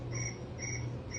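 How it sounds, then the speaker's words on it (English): Crickets chirp in a steady repeating pulse, about three bright trills in just over a second, clear and close over a low hum, with no talk. "Crickets."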